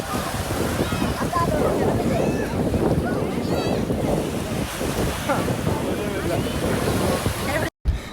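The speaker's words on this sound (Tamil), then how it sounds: "அதுக்குள்ளே அலை வந்துருச்சு" Ocean waves washing onto a beach during a family outing, a continuous loud roar of surf mixed with heavy wind buffeting the microphone, with voices faintly under it.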